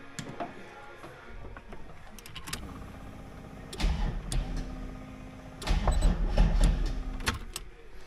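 An old Volvo project car's engine cranks in short bursts, then catches, with two louder surges of rough, low engine noise between quieter pauses and some clicks and clatter nearby.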